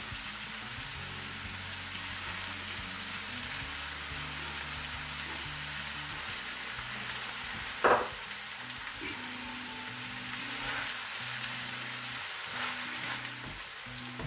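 Red and green peppers and green onion fry for chicken chow mein, a soft steady sizzle with faint stirring clinks and one sharp scrape midway, no voices.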